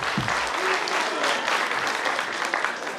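Steady, dense applause from an audience at a Romanian folk and traditions festival, cheering a folk ensemble; continuous clapping fills the whole stretch at close range, with no speech over it.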